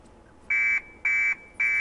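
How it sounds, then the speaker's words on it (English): A forklift alarm in the Hitman video game sounding three loud, even buzzing beeps, each about a quarter second long with short gaps between them, heard alone over quiet background. "I could just start an alarm on the forklift."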